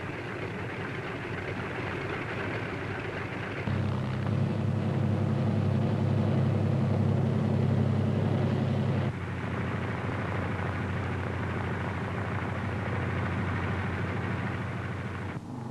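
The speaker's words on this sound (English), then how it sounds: "other C-47s move into position for their takeoff at the head of the runway" World War II C-47 transport aircraft at the head of a runway drone with a steady, loud radial-engine roar that swells partway through as the engines rise toward takeoff power, a dense continuous rumble with no voices.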